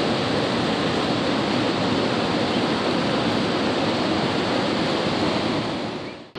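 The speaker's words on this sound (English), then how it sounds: "Got this beautiful waterfall here at the old mill." Waterfall at the Old Mill in Pigeon Forge, a steady, dense roar of rushing water heard up close and loud, unbroken for several seconds with no voices over it.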